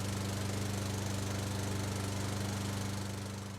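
A lawn mower engine runs steadily with a continuous droning hum, fairly loud and unchanging, before tapering off slightly at the end.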